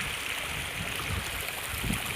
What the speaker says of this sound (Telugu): నీరు ఎట్లా అంటే అట్లా పోతున్నాయి